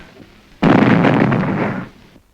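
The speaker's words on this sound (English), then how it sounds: "The explosion was from a bomb thrown by a Hindu refugee to kill Gandhi." A bomb explodes in a sudden loud blast that rolls on as a rough, booming roar for over a second before dying away; the sound is old and somewhat muffled.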